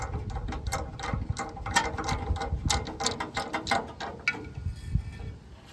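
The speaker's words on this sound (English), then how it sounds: "If you get bored of using your ratchet, once you get it loose, you can always just keep at her with your hand." A ratchet clicks rapidly while loosening a spark plug on a Subaru Sambar engine, dense metallic ticking in quick irregular bursts, close and without speech.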